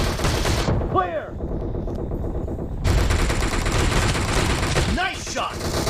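Rapid bursts of M1014 shotgun fire in a PUBG Mobile Team Deathmatch, loud and dense, with a burst near the start and another near the end over constant battle noise, mixed with voices.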